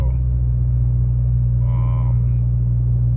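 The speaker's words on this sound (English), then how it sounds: "it's definitely not firing on all cylinders for sure" A Chrysler 300C engine with a misfire runs as a loud, steady low rumble with a brief uneven surge midway when given gas, heard up close.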